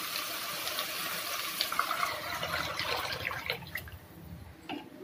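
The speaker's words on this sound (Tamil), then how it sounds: "இப்போ நம்ம எடுத்து வச்சுருக்கிற புளி மசாலா தண்ணியை இதில் சேர்த்துக்கலாம்." Tamarind masala water is poured into a frying fish curry (kulambu), a steady close splashing and sizzling pour that gradually breaks into smaller splashes and drips.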